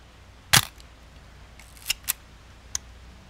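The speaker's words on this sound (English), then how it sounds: "500 shutter speed." A Chinon CS film camera shutter fires at 1/500 second: one sharp close click, then a few softer quick mechanical clicks, in quiet surroundings with no talk.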